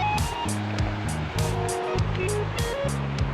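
Stormwater pours steadily over a weir spillway in Bua Chet district, a continuous rushing wash heard close by while someone talks over it.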